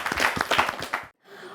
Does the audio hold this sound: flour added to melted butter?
no